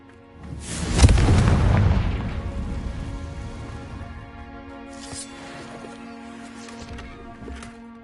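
Confringo blasting spell from the Hogwarts Legacy video game: one loud boom about a second in, then a long rumbling decay over steady game music and ambience.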